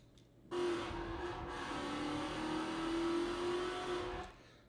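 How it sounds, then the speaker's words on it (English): A car engine starts up abruptly and holds a droning, buzzy exhaust note for about four seconds before cutting off. "That's a pretty cool exhaust note, right?"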